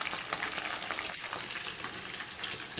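Spicy chicken pieces frying in a pan over high heat, a loud, steady crackling sizzle with occasional stirring noises and no talk.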